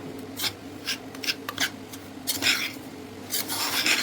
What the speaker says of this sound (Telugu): అరకప్పు బెల్లం వేస్తున్నాను ఇప్పుడు మనం కలిపించుకుందాం